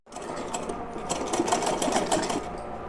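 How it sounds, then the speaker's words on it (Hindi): A sewing machine stitches a waistband on a small doll-sized dress, running at a fast, steady mechanical chatter close by with no talking. "पूरे पे सिलाई लगा लेते हैं और कमर पट्टी हमारी लग के रेडी हो जाएगी।"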